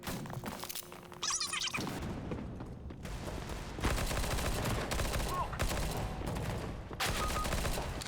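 Gunfire from a CS:GO match rings out in a dense, noisy barrage of shots and clattering impacts, loud and continuous throughout, with no talking.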